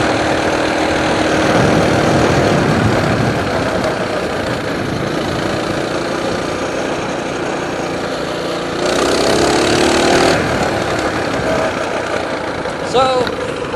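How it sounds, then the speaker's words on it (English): A de-restricted Coleman mini bike's small engine runs steadily and loud throughout while being ridden on a road, with a brief rise in pitch near the end; a voice talks over it. "My hands are going numb riding this thing. Yeah, this is just like riding a pressure washer."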